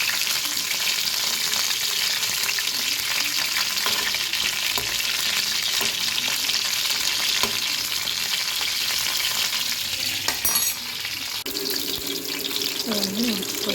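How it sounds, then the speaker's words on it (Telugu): Brinjals frying in hot oil in a pan give a steady, loud sizzle throughout, with faint stirring scrapes and a brief clatter near the end. "సో మనం ముందుగా కొంచెం లైట్గా వంకాయలు ఫ్రై చేసుకోవాలి"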